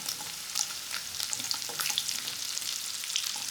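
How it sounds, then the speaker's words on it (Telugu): Onions, capsicum and green chillies frying in hot oil for Hyderabad-style chicken majestic, a close bright crackling sizzle with small pops and soft stirring scrapes, steady throughout with no talk. "నూనెలో చక్కగా గోలించుకోవాలండి."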